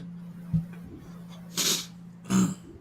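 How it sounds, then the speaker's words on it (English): An adult man sneezes and coughs near the microphone, with a short throat sound first and then two louder bursts over a steady low hum. "I'm fighting off a sneeze for the last several minutes"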